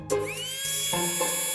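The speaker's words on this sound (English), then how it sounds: "Now let's use the drill to tackle more difficult areas." A toy dental drill whirs against Play-Doh teeth, a thin motorized whine that starts abruptly, steadies, then dips and resumes in short bursts, close and fairly loud.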